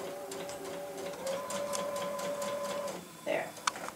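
A sewing machine fitted with a gathering foot runs a steady whirring stitch for about three seconds, close and moderately loud, then stops with a few clicks as a person speaks briefly.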